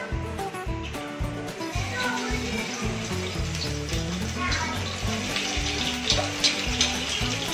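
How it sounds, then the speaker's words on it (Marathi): Garlic added to hot oil in a pan for an okra bhaji: a steady, close sizzle and crackle lasting throughout, with some faint background noise. "आता आपण ह्याच्यामध्ये लसूण टाकणार आहोत।"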